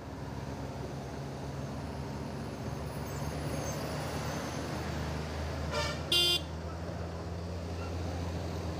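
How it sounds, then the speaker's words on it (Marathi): Steady road traffic on the Kumbharli Ghat mountain road rumbles throughout, engines droning, with a couple of short car horn blasts near the end. "घाटात ट्रॅफिक आहे मित्रांनो."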